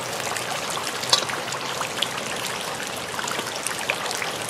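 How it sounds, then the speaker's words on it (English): Water splashes and trickles as it is poured out of a Beyblade stadium on a rainy day, a close, continuous dribbling rush with a few sharper drips and spatters, no talking. "Gonna dump out the water."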